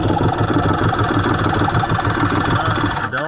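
A Waverunner LX personal watercraft engine cranks and churns steadily without firing properly, a loud, even mechanical drone that cuts off abruptly at the end.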